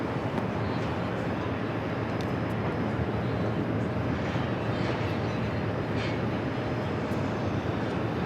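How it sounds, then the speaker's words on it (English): Airliner arriving from Seoul taxies off runway 13 left at JFK airport, a steady broadband jet engine roar that holds evenly throughout, distant and continuous with no voices. "Green Air flight coming in from Seoul, arriving on runway 13 left. Now exiting runway 13 left."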